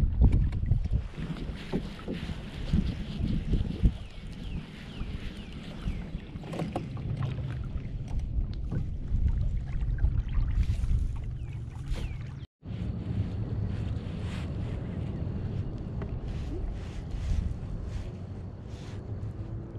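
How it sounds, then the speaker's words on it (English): Wind gusting across open water around a Pelican Catch PWR 100 kayak, with steady wind rush on the microphone, lapping water and occasional knocks against the hull. "It's a windy day."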